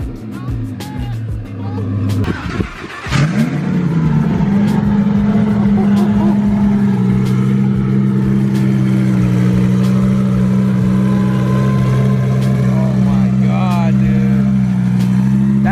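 A twin-turbo BMW E92 M3 engine starts up and settles into a loud, steady, throaty rumble close by, with a short rev near the end and a voice talking briefly early on.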